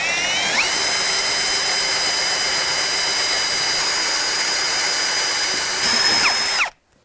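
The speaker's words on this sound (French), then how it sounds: "j'utilise la scie cloche qui est livrée avec le récupérateur d'eau" A hole saw supplied with a rainwater collector cuts into a plastic downpipe, giving a loud, steady high-pitched drilling whine that holds for about six seconds and then stops abruptly.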